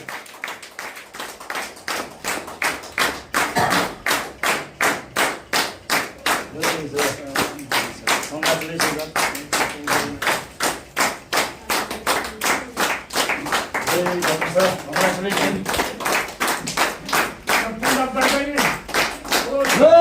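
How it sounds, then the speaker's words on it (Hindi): Loud synchronized hand clapping from an audience keeps a fast, even rhythm throughout, with faint voices underneath. "वाह मजा आ गया, जोरदार ताली होनी चाहिए।"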